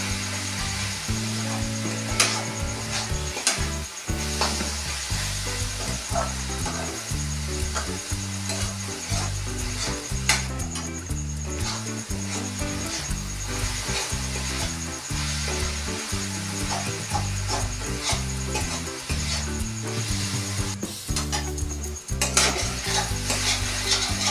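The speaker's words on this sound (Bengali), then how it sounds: "নারকেল দিয়ে চিনি দিয়ে পাকটা করে নিয়েছি" Grated coconut and sugar cook in a pan for a palm-fruit sweet filling. A continuous close sizzle runs throughout, broken by frequent scraping and clicking strokes of a utensil stirring the mixture, with no talking.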